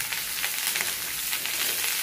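Steady oily sizzling of sliced onions sautéing in oil in a pan, a continuous bright crackle with no voices.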